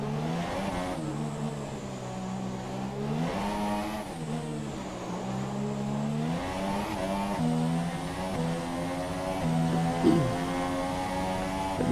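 Simulated Formula 1 cars scream past on the Monaco circuit in F1 2017, engines rising and falling through gear changes, loud and continuous with several cars overlapping.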